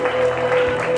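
A church congregation claps together during a Spanish-language morning worship service, a dense, steady wash of applause filling the whole moment, with a sustained tone humming beneath it.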